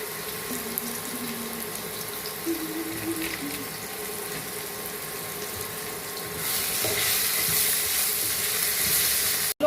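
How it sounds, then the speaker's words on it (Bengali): Potato pieces fry in mustard oil with a little turmeric in a kadai, a continuous close sizzling hiss that swells louder partway through, with no voices. "এই আলুগুলো এবার অল্প একটু হলুদ দিয়ে ভেজে নেব।"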